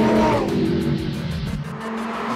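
Audi R8 LMS race car lapping the Nürburgring Nordschleife, its engine a loud, close, steady roar with a brief rising rev at the start and faint tire noise underneath.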